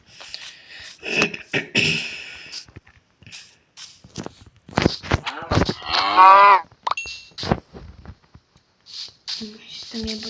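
A cow moos once in a video game amid scattered game sound effects and footsteps, with a person talking intermittently throughout.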